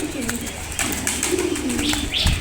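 Pigeon cooing close by while being hand-fed, a steady run of soft, low, throaty coos with faint chirps above.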